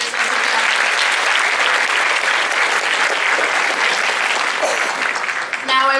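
A full crowd at the CHEMUN 2015 conference gives keynote speakers loud, sustained applause that stays even for several seconds. A voice cuts in just as it ends.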